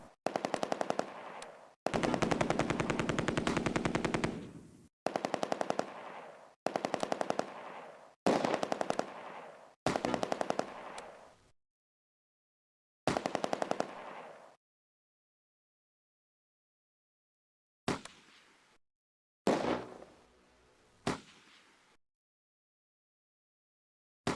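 Bursts of automatic gunfire from a Close Combat: A Bridge Too Far battle on the western approach to Arnhem, a long sustained stretch followed by several shorter volleys and isolated bursts, separated by silences.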